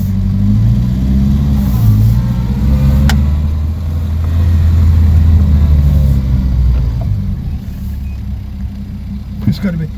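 A car engine idles, then revs and pulls away, rumbling low and steady with uneven surges and a couple of sharp clicks, while a voice talks over it.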